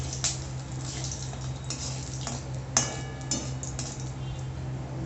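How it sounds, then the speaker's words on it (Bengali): Whole cardamom, cinnamon and cloves frying in oil, a soft continuous sizzle with scattered small clicks and taps of a utensil stirring the pan, close and fairly quiet, with a steady low hum underneath. "গোটা এলাচ গোটা দারচিনি আর গোটা লবঙ্গ দিয়ে দিচ্ছি ফোড়নে এটা একটু হালকা করে ভেজে নেব"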